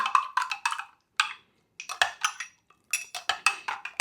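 A spoon clinks and scrapes quickly against a cup or bowl while coffee and ginger are stirred together, in short bursts of rapid metallic strokes separated by brief pauses.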